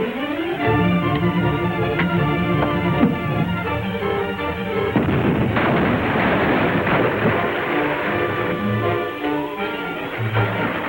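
Continuous heavy roar of gunfire aimed at a boat, a dense rumbling barrage with a thicker burst midway, loud and sustained over an underlying music score without pauses.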